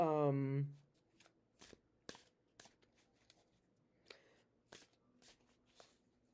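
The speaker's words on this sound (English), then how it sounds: "So this way I can shuffle." A short voice is followed by soft, papery riffles and flicks as a deck of tarot cards is shuffled up close in an otherwise quiet room.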